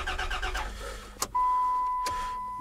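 A 1991 Chrysler Grand Voyager engine runs with a rough, pulsing rumble for about a second, then two sharp clunks follow and a steady electronic tone lingers.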